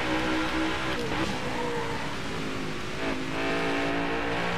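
Stock car engine roars in the NASCAR Heat 5 video game at Richmond, a sustained high drone with pitch rising and falling through gear shifts, pack noise all around.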